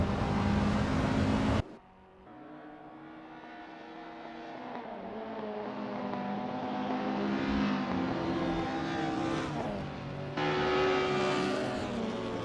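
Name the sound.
race cars warming up at Oulton Park, Assetto Corsa video game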